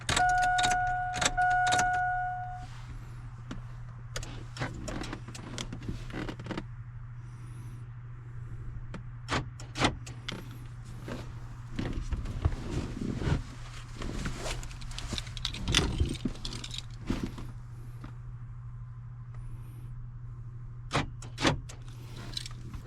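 Door locks on a 1999–2007 Chevy/GMC truck cycle while key fobs are programmed, a few sharp clicks and clunks standing out over a steady low engine idle, with quieter rattles scattered through.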